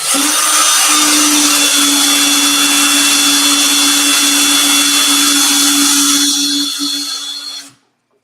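A leather edge being burnished on a motorized tool gives a steady, loud whirring hum that runs for about seven seconds before winding down and stopping.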